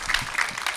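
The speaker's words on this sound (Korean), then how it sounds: "박수 한번 부탁드리겠습니다" Audience applause at a panel talk event, a short burst of steady clapping from a crowd with no voices over it.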